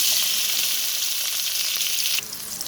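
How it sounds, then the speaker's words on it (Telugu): Onions frying in boiling oil for a long bean (barbati) curry, giving a steady, close, crackling sizzle that continues throughout and drops slightly in level near the end. "ఆయిల్ మరుగుతుంది, అందులో ఆనియన్స్ వేస్తున్నాను."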